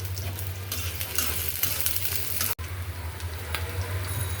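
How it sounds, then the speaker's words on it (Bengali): Kalai greens fry in oil in a wok with chopped onion and green chilli, a steady close sizzle and crackle with a brief stirring scrape partway through. "আমি কড়াইতে আগে তেল বসাই দিছি কলই শাক ভাজির জন্য"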